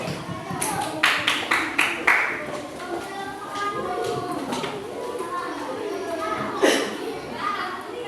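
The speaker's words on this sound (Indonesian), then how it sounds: "Berikan tepuk tangan untuk Bu Cynthia." An indoor crowd at a school teachers' dissemination session on positive culture claps for a presenter in a short burst of applause, with children's chatter and talk continuing around and after it.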